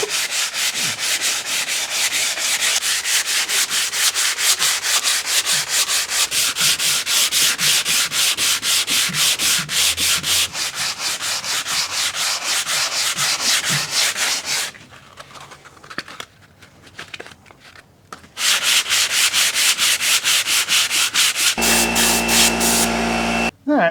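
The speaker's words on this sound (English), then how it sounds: "here I'm just using some 120 grit on a block" Hand sanding of a carbon fiber telescope tube with 120 grit sandpaper on a block gives continuous, loud, rhythmic rasping strokes. The strokes break off briefly near the middle and resume, ending in a low hum.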